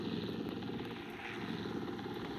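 A helicopter from Minecraft, in a Jurassic World mod, gives off a continuous, steady rotor-and-engine drone. The noise holds at an even level the whole time, with no speech over it.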